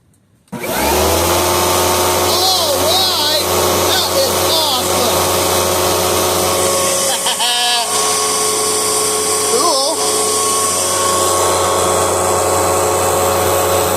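A 2004 Panasonic upright vacuum cleaner switches on and runs loud and steady with a constant motor whine, and a voice talks briefly over the drone.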